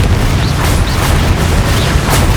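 A Confringo spell explosion in the Hogwarts Legacy video game, heard as a loud, sustained rumbling boom with deep bursts rolling over each other and no break throughout.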